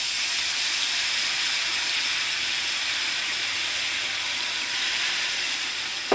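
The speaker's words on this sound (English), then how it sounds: "now we're going to add 1 cup of water really slow" Water is poured slowly into a hot pan of homemade gravy, giving a steady broadband hiss and sizzle at a constant level throughout, ending in a brief knock.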